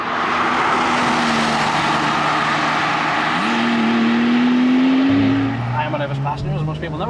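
A Porsche 911 Turbo S accelerates hard, its engine note climbing steadily, dipping briefly at a gear change and then rising again in a loud, sustained pull heard from inside the car.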